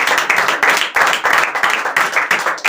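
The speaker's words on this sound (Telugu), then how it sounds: "చప్పట్లు కొట్టేసాను" Rhythmic hand clapping at a church sermon by a pastor, several sharp bursts in quick succession, loud and close, with a faint voice mixed in.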